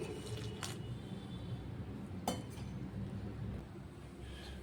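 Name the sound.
water added to flour while mixing dough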